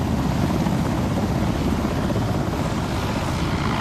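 A military helicopter flies over a stadium during a Ghana independence day display with troops rappelling, its rotors and engine making a loud, steady, dense roar throughout.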